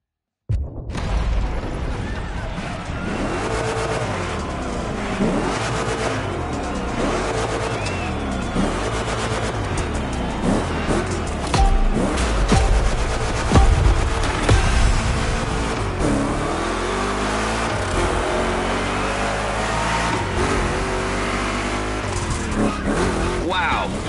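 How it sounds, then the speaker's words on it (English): Two Chevrolet big-block cars race in The Crew Motorfest on PS5, steady loud engine roar with revving and shifting pitch sweeps and occasional tire squeal, continuous throughout under game music and a talking voice. "Two Chevys, two big blocks, but only one winner."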